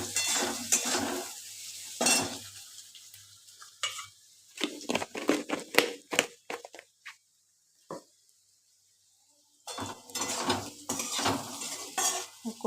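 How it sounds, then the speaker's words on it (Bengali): Two bay leaves stirred in a cooking pot for a thin Bengali chicken pakora curry: intermittent scraping and clinking strokes of a spoon against the pot with a faint sizzle, broken by short pauses and a near-silent gap midway. "দুটো তেজপাতা দিয়ে দিলাম, দিয়ে আবার নাড়াচাড়া করছি।"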